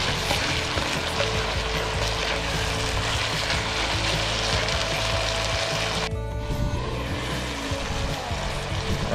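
Spicy tuna belly sisig frying outdoors makes a loud, continuous crackling sizzle, steady and close, with a brief shift near the end as the food is stirred.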